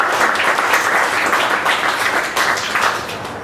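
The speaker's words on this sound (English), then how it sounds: "So a round of applause for everyone in the armed forces" An audience claps steadily for members of the armed forces, a dense and loud round of applause that stays even throughout and fades slightly near the end.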